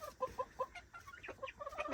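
Chickens in a coop, including a silver phoenix hen, giving a quick run of soft, close clucks in an irregular rhythm.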